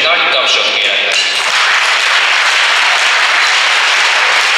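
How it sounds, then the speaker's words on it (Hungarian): Loud, steady applause from an audience at a sports ball hosted by a local sports club, a dense wash of clapping filling the whole stretch without a break. "Még egyszer köszönjük, és egy nagy tapsot kérek nekik."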